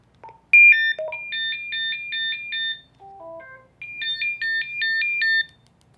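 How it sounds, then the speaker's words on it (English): Emergency alarm tone from a Motorola XPR 5350E two-way radio: a loud, clean electronic melody of rapid stepped beeps in repeating four-note bursts, a falling run of lower tones, then the bursts again, with no voice over it. "In order to turn off that alarm, which you can see going off as long as this red LED is blinking"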